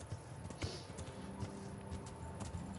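Horse hooves clip-clop in the medieval video game Kingdom Come, a faint, steady rhythm of repeated hoofbeats under quiet game ambience.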